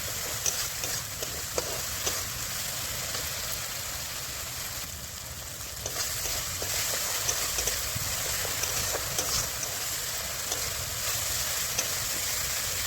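Spice masala sizzles and fries steadily in a pan while a spoon stirs and scrapes through it, giving a continuous hiss broken by soft clinks and scraping strokes, with no talk.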